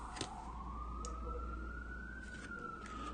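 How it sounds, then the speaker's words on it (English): Police siren wailing outside on a city street, a steady rising-and-falling tone continuing throughout at moderate distance, over a constant low urban rumble with faint clicks. "so it's got a lot of sirens and people outside talking."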